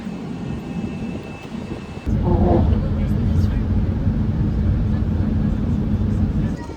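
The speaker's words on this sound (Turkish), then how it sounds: "Arabaya bindik ve şimdi gidiyoruz İstanbul'a" Steady road rumble from inside a car on the way to Istanbul, a continuous low drone that swells louder after a couple of seconds, with a person talking over it.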